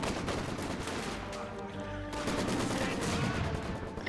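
Machine gun fire in Company of Heroes 2 on a 3v3 map, sustained rapid bursts of rattling shots amid battlefield din, loud throughout with a short lull before the firing picks up again.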